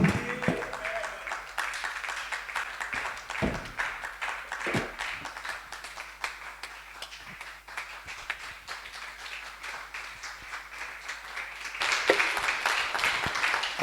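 Applause and clapping from a church congregation greeting a preacher, a sustained wash of hand claps filling the whole stretch and swelling louder near the end, with no voices over it.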